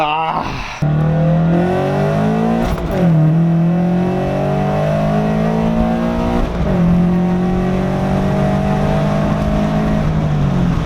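An Infiniti G35 engine revs repeatedly through a loud, throaty full exhaust, rising in pitch several times and settling back, steady and close throughout.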